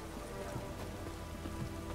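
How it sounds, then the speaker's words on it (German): Steady rain falls in The Witcher 3, a dense continuous patter on surfaces with faint voices under it. "Es regnet sicher nicht mehr lang"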